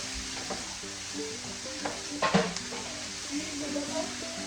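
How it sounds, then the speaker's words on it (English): Food seasoned with adobo is stirred in a hot pan, giving a steady sizzle broken by scraping stir strokes, with one louder clatter midway. "Okay, I'm gonna stir this up."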